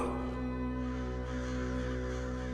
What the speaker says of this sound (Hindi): ये जो कौवे हमारे ऊपर मंडराते रहे हैं